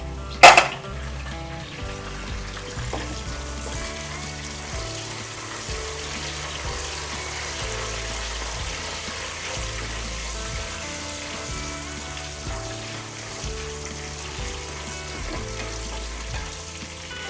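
Curry leaves hit hot oil in a pan for a fish curry, giving a sharp burst of spatter at the start that settles into a steady crackling sizzle, close and unbroken, with no voices.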